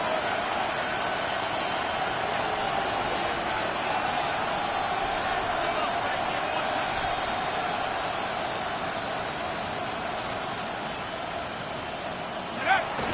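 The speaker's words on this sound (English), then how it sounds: "The crowd cranking it up another notch before 3rd and long." A football stadium crowd roars steadily and loudly ahead of a third down, a dense distant wash of cheering that holds for the whole stretch, swells slightly, and ends in a brief louder burst.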